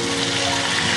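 Water pours steadily into a cooking pan, a close, continuous hissing splash that holds at an even level throughout.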